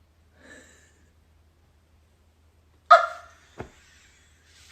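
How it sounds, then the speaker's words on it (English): A dog close by lets out one loud, sharp bark after a faint earlier yip, then gives a short snort, with near silence around these sounds. "This is what happens when you try to call for your dog while your dog is right next to you."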